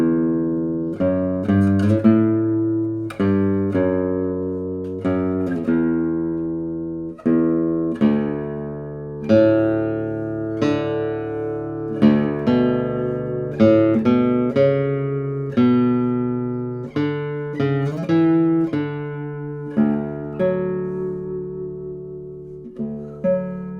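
Individual strings of a 2021 Tobias Berg No. 133 guitar ring out one after another, each plucked note blooming and decaying in a steady sequence of clear, resonant tones, played alone without talk.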